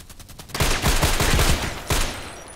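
Heavy DT SRS rifle shots in a video game, a loud close run of rapid repeated blasts followed by a brief pause and one more sharp shot, with no talking.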